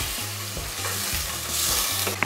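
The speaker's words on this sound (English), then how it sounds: "Tunakoroga tu vizuri." Meat for pilau sizzling and frying in a pot as it is stirred, a close, steady crackle with repeated scraping strokes.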